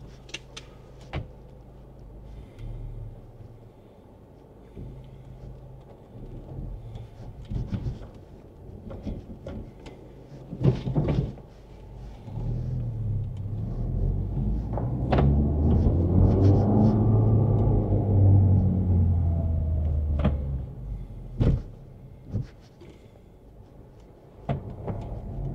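A Honda Civic Type R FL5 driving on the road, its engine rumble low and steady and swelling to a louder surge midway before easing off, with scattered cabin clicks and knocks and no talk.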